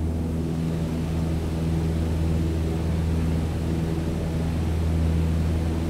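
A steady, loud propeller airplane engine drone from Microsoft Flight Simulator 2020, a constant hum with strong low tones running unbroken throughout, no voices.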